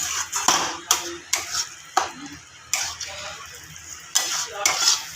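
Potol dolma filling with chili powder is stirred in a pan, a spoon scraping and clacking against the metal in repeated strokes over a faint sizzle, with a voice speaking.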